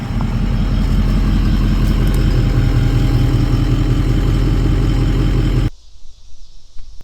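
A Ford 6.0 Powerstroke diesel in a truck idles with a loud, steady rumbling clatter close by, running evenly for several seconds before cutting off abruptly into quiet.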